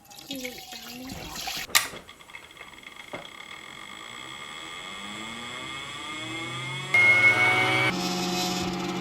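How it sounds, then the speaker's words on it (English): Warm water poured through a goat milk cream separator being tested after assembly: a trickling, gurgling flow with a sharp clatter early on, building into a louder rushing whir near the end. "So it says to pour warm water through this first to make sure that everything is assembled properly."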